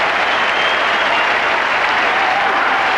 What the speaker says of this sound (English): all the Kiwis at the ground are out of their seats at the moment, cheering the New Zealand captain off the ground.